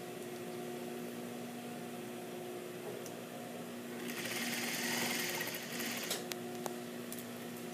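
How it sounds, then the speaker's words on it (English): A sewing machine runs steadily, stitching a jacket sleeve along a basting line near the armhole tape, with a constant motor hum and a brief louder burst near the middle before settling again. "And I'm sewing right on my basting stitch."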